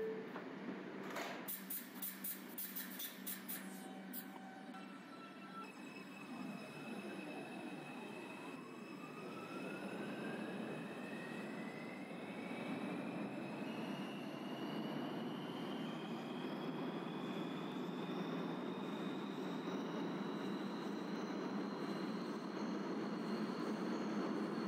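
A simulated R142 subway train on the New York 2 line rolls along with a steady rumble and a rising electric whine as it picks up speed, with faint rattles early on.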